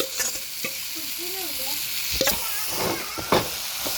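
Boiled potatoes and masala fry in a pan with a steady, close sizzle, broken by scraping stirring strokes at irregular intervals.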